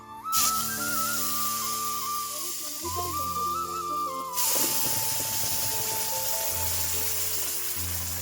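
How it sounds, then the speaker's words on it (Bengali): Spices hit hot oil in a kadai after frying potatoes for a chicken curry. A loud, steady sizzling hiss bursts up at once and eases partway through, with a tonal melody playing underneath. "এই কড়াইতে আমি আমার মশলাগুলো দিয়ে দেবো"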